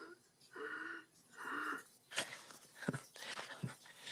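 A voice imitates a hound breathing heavily, with several rhythmic, wheezy rasping breaths in a row, close and fairly loud, followed by a few sharper snorting gasps.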